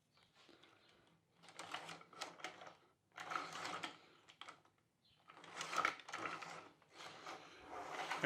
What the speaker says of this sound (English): it's good to keep the tube rotating as you roll it